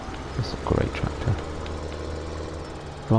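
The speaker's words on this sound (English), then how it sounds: "This is a great tractor." Steyr tractor engine in Farming Simulator 17, a steady low drone running throughout with brief talk over it early on.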